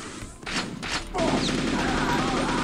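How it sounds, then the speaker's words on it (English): Gunfire in Quake, a couple of heavy bursts followed by a sustained loud roar of shooting and impacts, with a voice briefly audible. "Who the fuck is shooting at me?"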